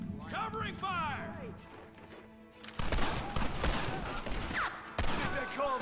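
Gunfire rings out during a Red Dead Redemption shootout, sharp shots and rapid bursts mixed with shouting voices and chaotic battle noise, growing denser in the second half.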